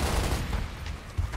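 Gunfire in the video game Gears of War, a dense, loud stream of shots with repeated low thumps across the short stretch and no talk.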